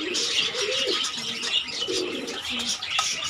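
High-flying Giribaz pigeons in a loft give repeated soft, low coos in rolling phrases, with light chirps and rustling around them, close and fairly quiet.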